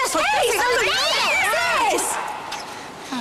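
A cat meows and wails in loud, sweeping, warbling cries indoors during a family scene, with a person speaking briefly over it.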